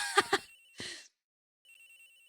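A cell phone ringing in the Ace Attorney Investigations video game: two quick melodic chirps and a short buzzy burst, then a pause and a thin, steady electronic tone that continues quietly to the end.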